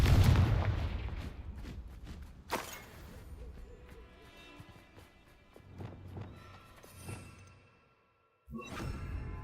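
A Confringo fire spell blasts in Hogwarts Legacy during a tough battle against higher-level enemies, opening with a heavy booming burst and whooshing rumble, then sharper cracks and impacts scattered through the fight before a short silence and a final loud hit.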